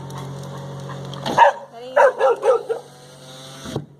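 A dog barks a few times in a short burst, close by, after a low steady hum.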